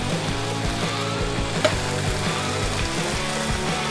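String beans sizzle and fry steadily in a hot pan with red wine vinegar and chicken, a continuous loud crackling hiss with a brief sharp clink partway through.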